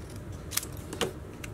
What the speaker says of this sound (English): I'm just gonna cut it like that, and then this side I'm gonna cut straight